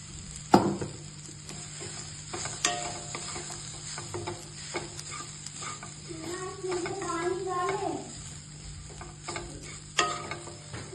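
Carrot, cabbage and onion sizzle in a frying pan as a spoon stirs and scrapes, with sharp knocks and clinks against the pan over a steady frying hiss.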